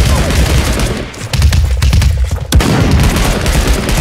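Dense gunfire in the battle royale game Realm Royale, rapid loud bursts of shots with short gaps and a sharp crack near the middle, no speech over it.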